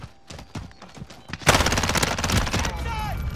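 Automated sentry gun in Call of Duty: Modern Warfare letting off a loud rapid burst of gunfire, with brief footsteps and movement before it and a fading tail after.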